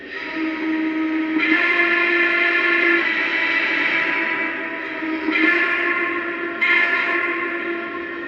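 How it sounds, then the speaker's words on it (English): A Lionel model steam locomotive whistle sounds in several long chime blasts, breathy and harmonic, overlapping with slight echo and no voices. "The whistle steam on this thing is just awesome"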